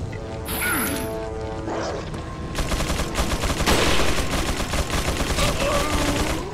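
Rapid gunfire from the video game Resident Evil 4, bursts of repeated shots following a short stretch of music and mechanical game sounds, loud and close throughout the latter half.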